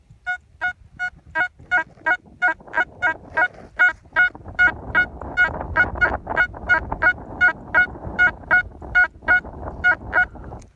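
Metal detector target tone reading in the low 80s at an 1840s–50s stagecoach stop site, a round warbling tone repeating in steady rapid pulses over about ten seconds, alone without talk.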